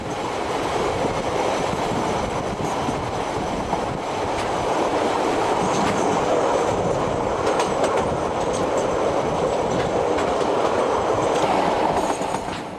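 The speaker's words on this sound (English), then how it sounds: "Darkness closes in on the train as it races downward towards the river port of Greymouth" A train races downhill on rails in darkness toward the river port of Greymouth. It makes a continuous close rumble with rhythmic wheel clatter and faint squeals, and no voices are heard.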